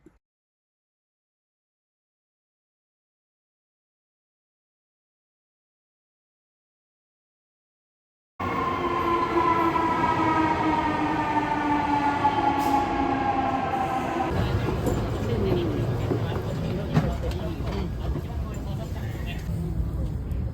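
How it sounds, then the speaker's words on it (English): After a long stretch of silence, a steady rumble and whoosh rise from inside a Shinkansen bullet train travelling to Nagano, continuing at an even level with a tonal whine that fades partway through. "The Shinkansen takes about an hour and a half to get to Nagano"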